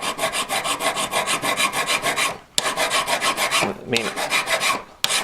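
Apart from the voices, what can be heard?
hand file filing a V claw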